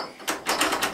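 A wooden rabbitry door on a homestead swings shut and latches, giving a few close, sharp clacks and rattles in quick succession.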